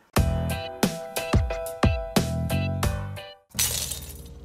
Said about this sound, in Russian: Так, кто разбил игрушку?